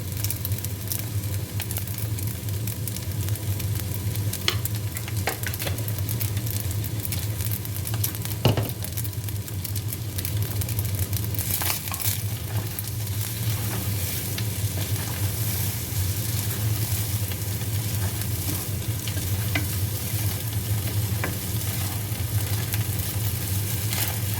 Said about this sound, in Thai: เราไม่ได้ผัดใส่น้ำมันนะคะ